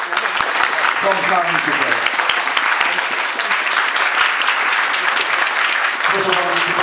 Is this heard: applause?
yes